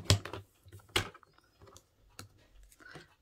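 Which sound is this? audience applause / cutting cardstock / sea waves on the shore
cutting cardstock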